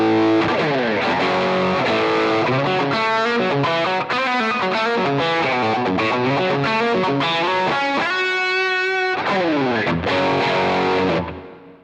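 Electric guitar driven through the tube screamer style Lucy Dreamer overdrive stage of a JAM Kochness Monster multi pedal, mildly gritty picked chords and riffs played steadily for about twelve seconds, close and alone before the final chord cuts off.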